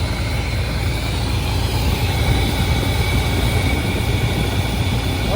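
A 1984 Chevrolet C30 crew cab truck engine idles at about 1,000 RPM in a loud, steady low rumble that holds an even pitch throughout, with no other sounds.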